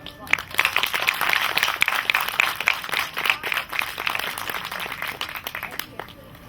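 Scattered, moderate applause rises and fades from an audience at an Urdu mushaira poetry gathering, with a voice speaking over the clapping.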